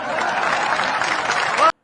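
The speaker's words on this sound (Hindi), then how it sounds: "सबकी तालियां बजनी चाहिए।" Audience applause at a Hindi satirical comedy and shayari show, a dense, steady patter of many hands clapping close by for nearly two seconds before it cuts off abruptly.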